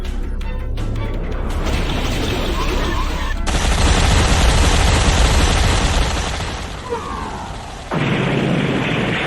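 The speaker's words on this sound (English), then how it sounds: "Firing railguns!" Railgun salvo in a space dogfight audio drama: heavy, dense bursts of rapid booming fire that swell loud and sustained for several seconds, then drop and surge again, with no talk over it.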